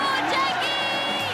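A crowd of Montrealers cheers loudly and close, a brief dense burst of shouts and whoops, with a few high voices standing out.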